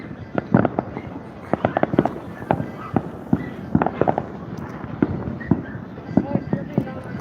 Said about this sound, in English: I can hear fireworks starting up